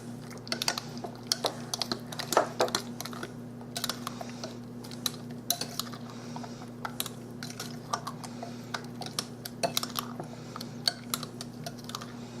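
Rapid, irregular clicking and tapping of a utensil quickly mixing a peaches-and-cream pie filling in a bowl, over a steady low electrical hum.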